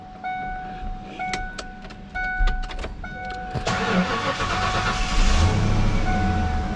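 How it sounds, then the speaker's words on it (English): A 1992–95 Ford Mustang GT engine with high oil pressure cranks and catches, then settles into a rumbling idle, preceded by a series of electronic chimes and beeps. "I'll start the car up and show you that"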